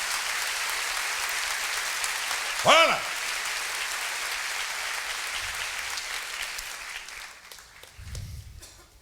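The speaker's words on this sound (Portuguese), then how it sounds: "Vamos aplaudir a palavra de Deus." A church congregation claps throughout, a steady dense applause that fades slightly toward the end while a voice briefly shouts over it.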